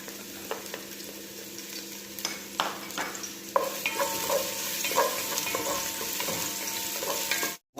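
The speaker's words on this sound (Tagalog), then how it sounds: "Mag-gisa na tayo yung ating mga bawang sibuyas." Garlic and onion sautéing in a pan while being stirred, with steady sizzling and repeated scraping, clinking stirring strokes, close and moderately loud.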